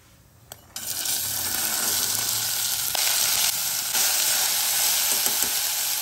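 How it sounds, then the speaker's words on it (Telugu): Urad dal, chana dal, mustard seeds and cumin frying in hot ghee: a dull clink, then a loud, steady, close crackling sizzle that starts suddenly and holds to the end, with a few faint pops and clinks. "మినపప్పు, శనగపప్పు, ఆవాలు, జీలకర్ర వేయించుకోవాలి మంచిగా"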